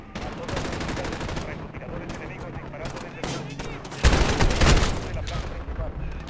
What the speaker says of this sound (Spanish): Están disparando desde aquí. Es que oigo muchos disparos